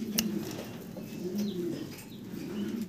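Lahori pigeons coo quietly in low, rolling phrases that repeat every half second or so, with a few light clicks and possible wing flutters nearby.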